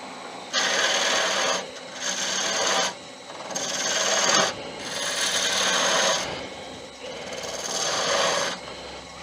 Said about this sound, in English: so I'll go down to a smaller spindle gouge to get in there